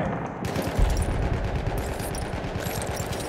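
Rapid machine gun fire from a support soldier in Battlefield 1 on the Monte Grappa map, a loud continuous stream of close automatic shots that fills the whole moment.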